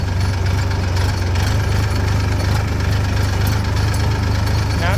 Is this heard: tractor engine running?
yes